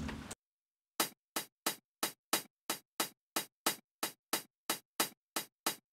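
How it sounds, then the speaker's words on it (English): Boombap Beat Pack hi-hat samples, lightly EQ'd with some highs rolled off for a vintage feel, tick in a steady, evenly spaced run of crisp closed hits after a brief burst of sound at the start. "So the hats I'm using are from Boombap Beat Pack."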